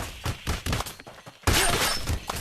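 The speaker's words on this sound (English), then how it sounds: "I should sharpen my nail gun." Nail gun firing in the video game Blade and Sorcery Nomad, a series of sharp thumping shots followed by a loud bright burst and crashing clatter.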